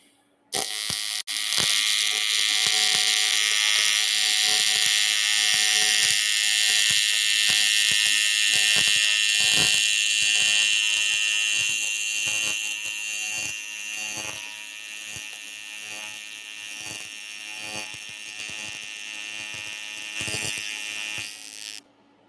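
Cast aluminum being TIG or MIG welded with 4043 filler rod, a steady loud buzzing hiss with crackling ticks that runs continuously for about twenty seconds, fading slightly near the end before stopping.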